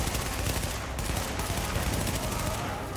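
Dense gunfire from the video game Tom Clancy's The Division, a continuous rattle of rapid shots that stays loud and close for the full few seconds without letup.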